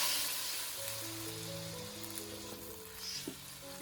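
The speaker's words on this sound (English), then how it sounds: "And now I'll add in the sauce." Sauce poured into a hot pan of vegetables for sweet and sour chicken, giving a soft, faint hiss and sizzle with light crackles, fairly quiet and without talk.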